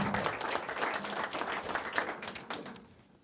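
Applause at a building dedication ceremony honoring a property donor, a crowd clapping steadily at moderate volume before fading out toward the end.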